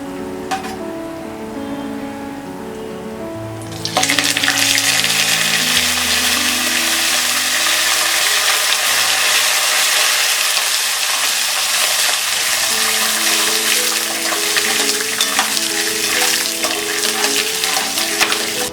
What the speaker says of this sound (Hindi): पीनट्स फ्राई हो गए हैं। अब हम इसमें डालेंगे ये करी लीव्स